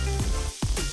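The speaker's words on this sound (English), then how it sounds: "when you're at a fast food restaurant and the meat goes on the burner and you hear the sizzling" Meat sizzles on a fast food restaurant burner as an app sound effect, a brief dense crackling hiss with a couple of quick pops, close and loud.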